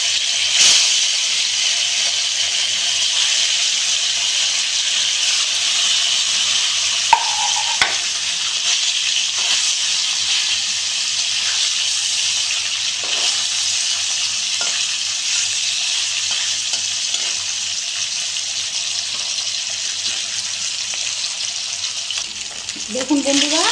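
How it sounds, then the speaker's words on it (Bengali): Rohu fish pieces fry in hot oil in a wok, a steady loud sizzle that holds throughout with a few brief clinks and scrapes near the end. "আমি এখন মাছের পিসগুলো দিয়ে দিচ্ছি।"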